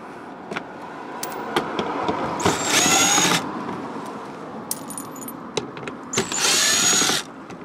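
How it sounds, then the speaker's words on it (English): An impact wrench fitted with a socket drives out screws while transmission fluid is changed on a Toyota RAV4 Prime, sounding two loud hammering bursts of a couple of seconds each over faint clinks and background rumble. "I'm gonna use a socket on impact"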